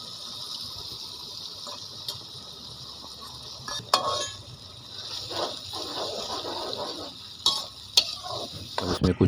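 Yogurt stirred into a sizzling masala with crushed red chili and a splash of water for falsa pulao: a steady, close frying hiss with soft stirring scrapes and a few clinks, no talking.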